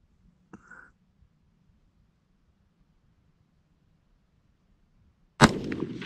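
An AR-308 rifle fires at an outdoor shooting range: after a faint early click and near silence, one loud, sharp shot cracks close by and rings out briefly.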